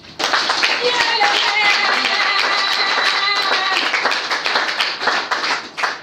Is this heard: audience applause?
yes